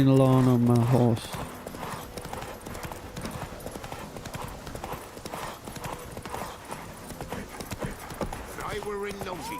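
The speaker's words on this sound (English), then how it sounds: "Riding along on my horse." Steady rhythmic hoofbeats of a horse in The Witcher 3: Wild Hunt clip-clopping along, continuous and fairly close, with a brief whinny near the start and end.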